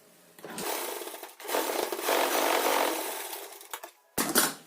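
A sewing machine stitches a folded pleat on a katori blouse, running in long loud bursts with brief pauses between them and a short final spurt.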